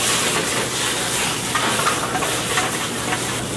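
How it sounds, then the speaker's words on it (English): Capers and whole garlic cloves with green onion sizzling in a hot pan, a continuous, even hiss up close with no speech over it. "some capers. We like those to sizzle a little bit."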